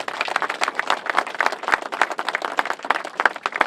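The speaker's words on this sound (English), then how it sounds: "I'd like to give them a big round of applause for their contribution." Applause from the crowd at an All-Ireland Junior B final replay presentation, a dense burst of many hands clapping at moderate distance for a few seconds.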